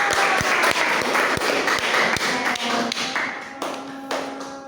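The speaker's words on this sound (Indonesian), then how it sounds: "Kasih tepuk tangan dulu dong." Elementary school pupils in a classroom math lesson clap together, producing a steady run of sharp, evenly spaced claps that ring loudly throughout.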